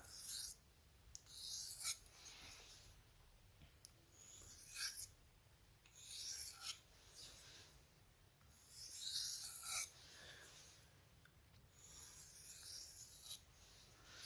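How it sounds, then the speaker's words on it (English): Light deburring strokes of a Spyderco Parata knife blade on a sharpening stone, a series of soft, rhythmic raspy rubs, close and quiet, with pauses between each pass. "Very light strokes now. And on these deburring passes, it's okay to raise your angle half a degree or two."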